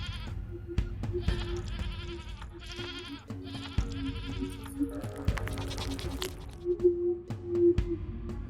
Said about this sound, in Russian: Призрак козы, судя по всему.